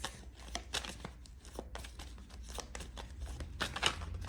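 Tarot cards being shuffled by hand, close and quiet: irregular bursts of papery riffling and slapping, uneven and clumsy in rhythm, with no talk.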